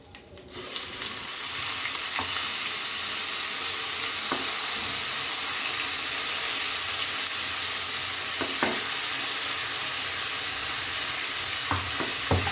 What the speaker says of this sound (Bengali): ফোড়ন দিয়ে এতে একটু আদা বাটা দেব।